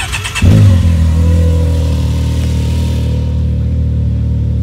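A Can-Am Maverick X3 4x4 side-by-side fires up with a sharp start, then revs loud and close, settling into a strong steady engine drone that rises slightly in pitch.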